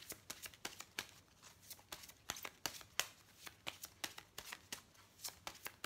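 Tarot cards are shuffled by hand in a quick series of soft, crisp riffles and flicks, repeating steadily and heard up close at low volume with no talking.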